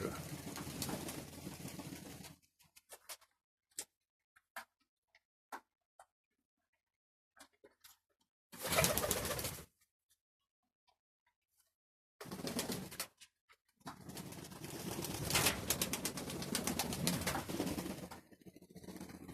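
Pigeons coo in short bursts between stretches of near silence, with a few soft clicks and flutters; the cooing is close and clear.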